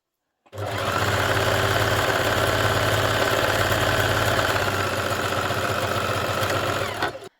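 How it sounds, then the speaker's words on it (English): A sewing machine stitches through the layers of a jetted pocket in one steady, loud, rapid run lasting about six and a half seconds, starting and stopping cleanly. "we're now stitching all of those layers together like this"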